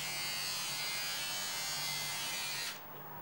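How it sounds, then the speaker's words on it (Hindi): A Philips electric beard trimmer runs with a steady, close high-pitched motor buzz, then cuts off abruptly near the end, leaving quiet. "ये ट्रिमर बहुत ही ज़्यादा अच्छा है"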